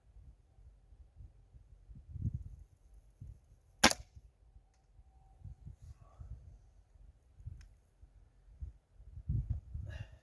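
Pneumatic air gun fired at the Norio shooting range: one sharp, crisp shot stands out partway through, surrounded by low rumbling handling and wind noise.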